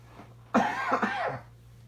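A single close, throaty cough breaks a quiet room with a faint steady hum in the background.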